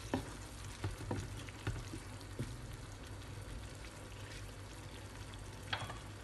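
Seafood and chicken paella cooking in a pan gives off a soft, constant sizzle, with a few scattered taps and scrapes from stirring; quiet and close, no talking.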